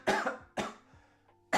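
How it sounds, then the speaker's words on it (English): Three bursts of coughing from one person: two close together, a pause, then a third, each harsh and fairly close with short decaying tails, no talking between them. "I need to stop coughing."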